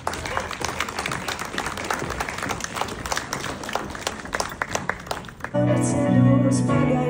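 Audience at a 2025 Latvian poetry evening applauding warmly, dense crowd clapping for several seconds before music with sustained tones abruptly takes over near the end.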